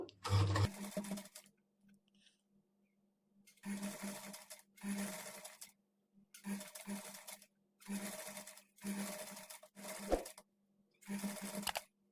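A sewing machine stitches lace onto a blouse in a series of short separate bursts, each a second or so long, broken by quiet gaps, with a voice speaking near the start.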